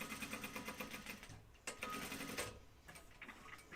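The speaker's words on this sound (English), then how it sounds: "Sew the other side of your collar." A sewing machine runs a seam along a flight suit collar with quick rhythmic stitching, then briefly pauses before picking up again at a steady pace, close and fairly soft.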